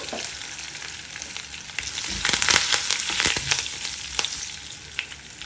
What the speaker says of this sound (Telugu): వేగాక దీనిలో కరివేపాకు వేసుకుందాం. కొద్దిగా ఇంగువ వేసుకోండి.